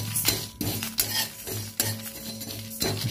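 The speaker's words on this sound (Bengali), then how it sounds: "এই মশলাটাকে ভালো করে ভেজে নেব" Fennel, coriander seeds, cumin, panch phoron and dried red chillies fried in a pan, with a soft sizzle under repeated scraping and clinking strokes of a spatula, close and steady, no talk.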